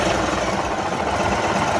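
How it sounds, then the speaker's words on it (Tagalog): Indian Chief Dark Horse motorcycle engine running at a steady idle, a deep, continuous rumble held close and even for the whole stretch, with no voices over it. "That's a very, very deep engine noise."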